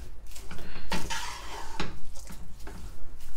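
Sweet vermicelli with sugar is stirred in a pot, with repeated scraping and clanking strokes of a utensil against metal coming in irregular bursts up close.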